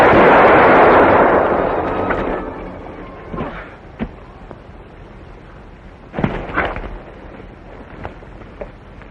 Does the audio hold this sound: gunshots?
yes